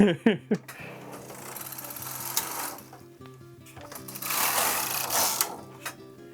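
A secondhand sock knitting machine runs steadily for several seconds while making self-striping socks, giving a close, busy mechanical clatter that rises and falls with a few sharper knocks near the start.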